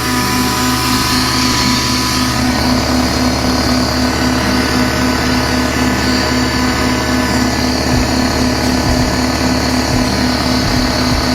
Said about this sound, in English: I can still hear the exhaust leak.